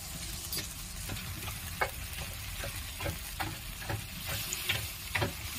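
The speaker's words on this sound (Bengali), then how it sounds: "এবার এখানে আমি পরিমাণ মতন একটু জল দিয়ে দেবো" Sautéed masala frying steadily in a pan while making shukto with chhatu, a soft continuous sizzle with scattered small pops and crackles, close and moderately quiet, no voices.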